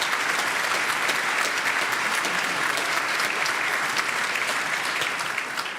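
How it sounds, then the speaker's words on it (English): An audience at a Christmas choir concert gives the drummer a round of applause: sustained, even clapping from a full hall, close and continuous from start to finish. "so if we could give Brad a big round of applause."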